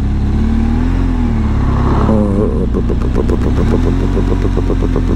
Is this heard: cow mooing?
no